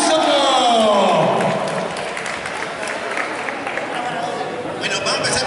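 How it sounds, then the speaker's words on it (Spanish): Crowd applauding at a cosplay runway contest results announcement, a steady wash of clapping and cheering that follows a voice fading out at the start, with faint chatter underneath. "¡Un aplauso!"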